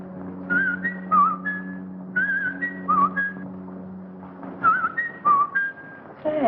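A whistled imitation of robin song: a person repeats short rising and falling warbled phrases in three clear bursts with pauses between, close and fairly loud over a steady low hum.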